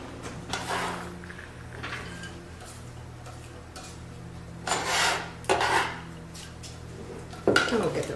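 Chopped onion goes into a pan to sauté for an artichoke and bean spread, with faint background hum, a few clattering bursts of pan and utensil contact, and soft sizzling and scraping between them.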